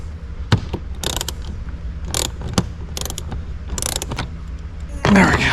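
Bursts of ratchet clicking while a ratchet wrench backs out 7mm bolts holding a car radio, close and intermittent, with pauses and clunks between the sets of clicks and a louder rattle at the end.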